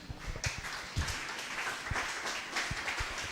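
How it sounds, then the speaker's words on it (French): A church congregation applauding, with scattered, moderately distant claps rising and falling in loose bursts at a fairly low level. "On acclame Dieu pour lui."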